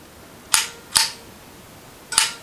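A Kodak Baby Brownie camera's shutter clicks three times, sharp and close: two snaps half a second apart, then a third after a pause, in a quiet room.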